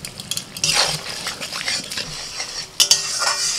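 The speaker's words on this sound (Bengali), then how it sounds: "নাড়াচাড়া করে মশলাটা মিনিট 5 কষিয়ে নেওয়ার পর" Spice masala with tomato, yogurt and a little sugar being stirred in a pan, a spoon scraping and clinking in bursts over a soft sizzle, a sharper clack near the end.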